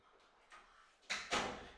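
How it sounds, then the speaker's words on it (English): A door in a craft room thuds shut in two quick impacts, the second slightly louder, near and fairly loud after quiet room tone. "Sorry about the door."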